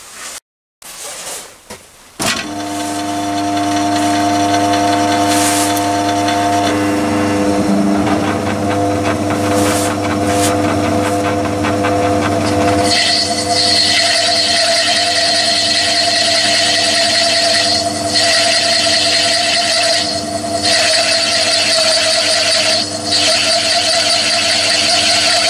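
A steady machine drone with a high whine runs throughout, starting after a short knock, with the pitch and grinding texture shifting partway as a Myford ML7 lathe bores out metal.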